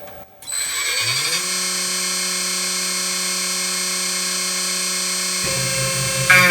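A CNC spindle turning at 10,000 RPM and milling at a feed of 800 mm/min spins up into a loud, steady high whine that holds evenly, then shifts in tone near the end as the cut changes.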